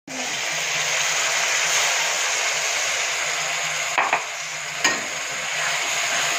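Ground tomato fries in a pan after browned onion, a steady broadband sizzle that begins abruptly and holds throughout, with a couple of sharp utensil knocks near the end.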